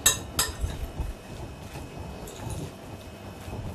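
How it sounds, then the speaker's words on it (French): A spoon works through a seasoned filling mixture in a bowl, making soft close clinks and scrapes at the start, then a quieter, irregular stirring rustle. "On continue à mélanger."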